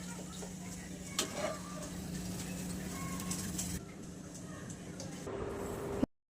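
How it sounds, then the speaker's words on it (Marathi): Sabudana fingers fry in oil over a medium gas flame, a steady, dense sizzle that runs continuously beneath someone talking, then cuts off abruptly at the end. "बारीक गॅसवर तळले ना, मीडियम गॅसवर जर तळले ना तर मस्त फुगते"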